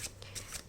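A tarot card is drawn and slid from a deck: a few soft, brief papery swishes, close and quiet, with no voice.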